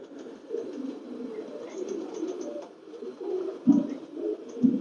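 Pakistani pigeons coo softly in low, murmuring calls, several birds overlapping in a continuous gentle burble.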